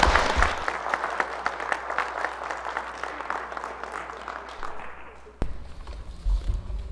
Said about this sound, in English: Can we give these folks a round of applause just for all that?